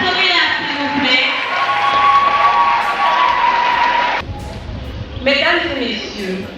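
A crowd cheers and claps for a class president at a graduation ceremony, a loud mix of shouts, whoops and scattered applause that fades out briefly, then rises again.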